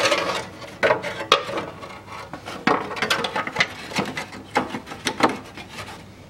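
A hand ratchet clicks in uneven bursts while tightening fasteners on the turbo heat shields of a Land Rover Discovery 3, with close mechanical clatter and rubbing between strokes and no talking.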